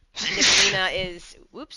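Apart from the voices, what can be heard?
sneeze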